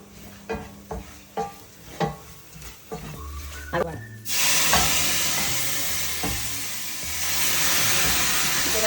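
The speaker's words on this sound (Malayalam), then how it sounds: "ഇതിനകത്തോട്ട് ഞാൻ പുളിവെള്ളം ഒഴിച്ചു കേട്ടോ" A spoon taps and scrapes in a pan of fish curry masala, then tamarind water hits the hot pan and a sudden loud hiss starts. The hiss keeps sizzling steadily to the end.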